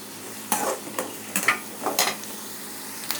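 Onions frying in a pan for a Tamil urundai kuzhambu, several distinct stirring scrapes and sizzling bursts over about three seconds against a soft hiss, close by and free of talk.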